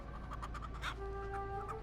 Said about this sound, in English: the hitchhiker just wanted to pet his pet chicken, George.